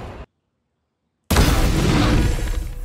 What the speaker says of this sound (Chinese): 玉器摩擦的声音